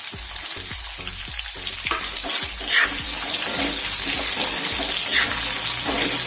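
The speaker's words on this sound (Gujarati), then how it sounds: "આ ડુંગળીને આપણે થોડી સોફ્ટ થાય તે રીતે પકવી લઈશું" Chopped onions with dried garlic cloves fry loudly in a pan, a close continuous sizzle with scraping and stirring clatters, no voices.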